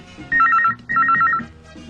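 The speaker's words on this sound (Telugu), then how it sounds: "అమ్మా రింగ్ అవుతోంది" Two bursts of an electronic telephone ring, a rapid warbling trill repeated twice, loud and close with a short pause between.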